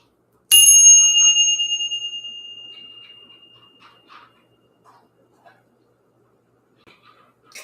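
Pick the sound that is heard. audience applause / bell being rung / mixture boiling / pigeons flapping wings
bell being rung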